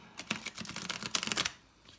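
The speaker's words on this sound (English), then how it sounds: "Let's just see how these shuffle." Playing cards riffle-shuffled by hand, heard as a close, fast flutter of crisp papery clicks that lasts just over a second before fading to quiet.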